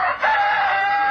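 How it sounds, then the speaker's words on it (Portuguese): A rooster crows in a recording of a Goiânia Esporte Clube football club anthem, one loud, close, drawn-out call that fills the short moment. "Um galo."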